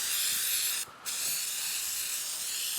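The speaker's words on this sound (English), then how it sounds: "Just spray it down" A steady hissing spray of cleaner from a pump nozzle onto a motorcycle air filter runs almost continuously, broken by one brief pause before resuming, close and fairly loud.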